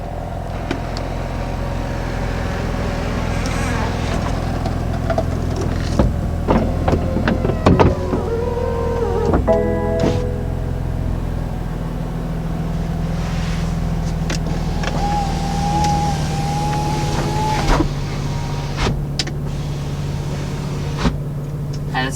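The electric folding hard-top roof of a 2020 BMW M4 Convertible whirs and hums steadily as it closes, with mechanical clicks and clunks along the way, close and continuous for about twenty seconds.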